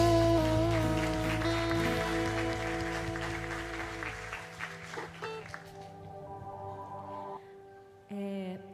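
A church congregation claps its hands after worship music, the applause starting loud over fading sustained music, then thinning out and dying away.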